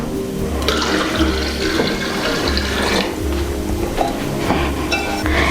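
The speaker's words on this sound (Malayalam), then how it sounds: "തിളപ്പിച്ചാറിയ വെള്ളം നമുക്ക് ചേർക്കാം." Boiled and cooled water poured into a jar for homemade orange wine, a steady splashing pour running continuously and close, with no talking.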